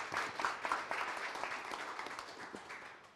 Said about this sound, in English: let's give him a round of applause for lunch